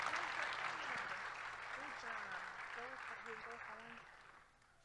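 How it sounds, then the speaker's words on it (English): An audience claps for a contestant at a youth ambassador pageant, a soft, distant wash of applause that slowly fades, with talking and voices audible over it. "Let's give Shay a big round of applause"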